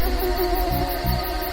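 Mosquitoes buzz close by in a steady, high, continuous whine that holds unbroken throughout, with no voices.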